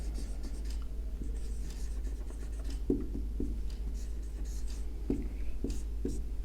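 Chalk taps and scrapes on a board while a molar conductivity equation is written in a chemistry lecture, producing irregular short strokes and clicks over a steady low hum.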